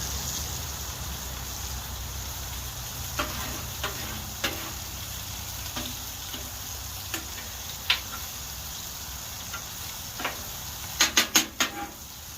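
Onions and peppers sizzle on a grill beside a Juicy Lucy burger, a low, even hiss with scattered sharp pops and crackles that cluster near the end, no one talking.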